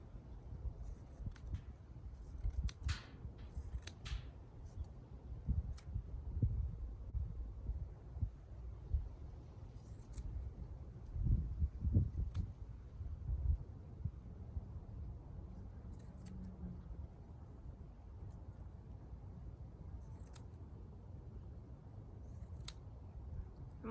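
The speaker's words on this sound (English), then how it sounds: "I'm also using pinking shears so that they give a little zigzag edge." Pinking shears cut an old cotton t-shirt into rags, giving faint, scattered crunchy snips over a low background hum.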